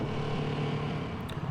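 A BSA Gold Star motorcycle cruises on the busy M25 motorway, its engine a steady close low hum with wind rush, holding an even note without sharp revving.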